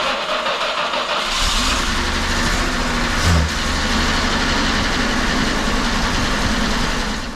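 A 1973 Jaguar XJ6 with triple carburetors and a manual swap cranks and fires up, then settles into a loud, steady, rough idle with a brief surge near the middle. Close and continuous, with no talking.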